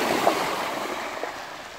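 Waves wash over large and small pebbles on the Novorossiysk shore, a continuous rushing hiss of water with faint rattles of shifting stones, close and fairly loud.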